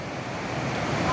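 Swollen river after heavy rain, its strong current rushing in a continuous, broadband roar with wind buffeting the microphone, steady and close.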